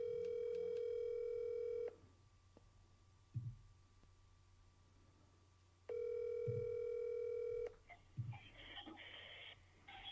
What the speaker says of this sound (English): Heather, I'm going to have to call you on my cell phone